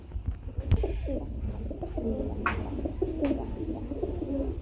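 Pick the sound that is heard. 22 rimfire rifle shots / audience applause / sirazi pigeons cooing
sirazi pigeons cooing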